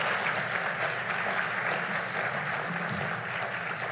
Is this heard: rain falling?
no